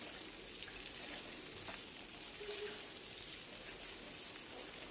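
Chicken, potato, onion and capsicum fry together in a pan, giving a soft, steady sizzle and hiss that stays faint and even throughout with no voices.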